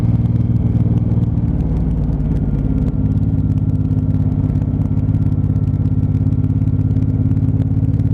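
A Suzuki Intruder 1800cc cruiser motorcycle rides along on fresh tyres after a service, its engine a steady loud low rumble with continuous wind and road roar throughout.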